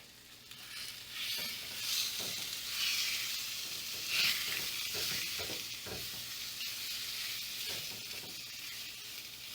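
Pork sizzles steadily in oil in a pan at an outdoor camp kitchen, a close, continuous hiss with soft crackles and occasional stirring scrapes, no voices.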